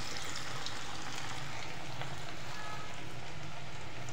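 Vegetable pakoras sizzle in hot oil in a kadhai, a steady close crackling fry with fine bubbling pops, no talking.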